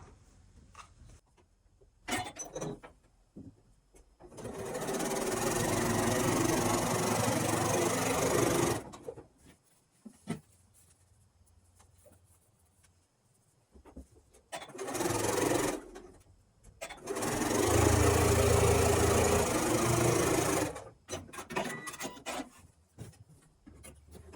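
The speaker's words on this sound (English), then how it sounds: "that's how you can begin your sewing" A sewing machine stitches quilt block fabric pieces together in two long bursts of steady motor hum and needle chatter, separated by quiet pauses with light handling and rustling of fabric, close and loud, no speech.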